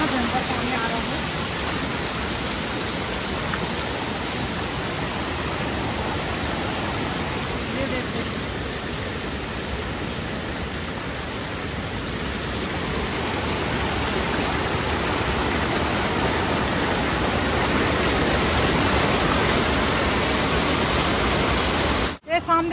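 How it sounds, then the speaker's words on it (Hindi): Floodwater after a cloudburst rushing past village fields and a polyhouse, a loud unbroken roar of churning water that fills the whole stretch, with someone speaking briefly over it. "इतना भयंकर पानी आ रहा है।"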